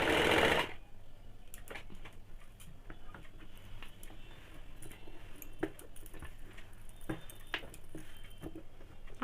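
A sewing machine stitches a kaftan nightie with the pattern dial set between B and C, a soft steady whir with light ticking after a brief loud burst at the start.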